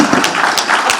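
An audience applauds a panel at an inaugural session, a short dense burst of clapping from many hands, close and steady, with no speech over it.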